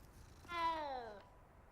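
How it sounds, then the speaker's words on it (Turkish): A cat meows once in Hogwarts Legacy: one clear, drawn-out call that rises and then slides down in pitch, heard alone over a quiet background. "Aga bu nasıl bir miyavlama ya?"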